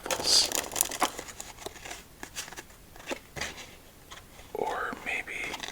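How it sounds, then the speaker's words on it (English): A deck of playing cards is shuffled at an ASMR solitaire table: close, crisp riffling bursts and flicks with soft crinkly handling between them, under faint whispered speech. "let's give this deck 2 more shuffles"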